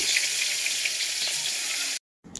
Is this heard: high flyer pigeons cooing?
no